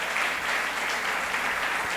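Church congregation applauding at a worship service, a steady dense wash of clapping that fills the whole moment with no voices over it.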